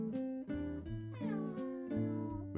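Florence, a mischievous cat, meows several times in quick succession close by in a shop, the calls rising and falling with no one talking.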